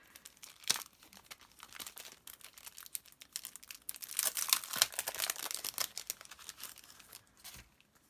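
A sheet of decorative stickers crinkles and rustles close by in quiet, irregular bursts as it is handled over a notebook setup, with no talking.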